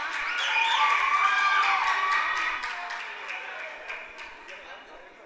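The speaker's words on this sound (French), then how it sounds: "Applaudissez s'il vous plaît" Crowd applause and cheering from a school quiz contest audience, loud at first with a lively sustained wash, then gradually fading toward the end, with voices mixed in.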